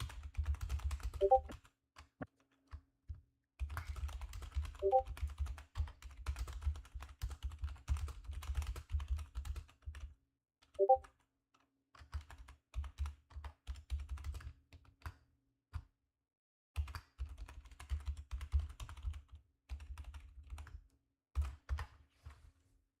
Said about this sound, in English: Nice typing.